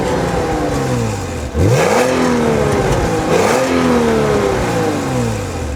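A Porsche Boxster 3.2 S engine with twin exhaust revs hard and loud up close, climbing in pitch through several gear changes, each shift dropping the tone before it rises again.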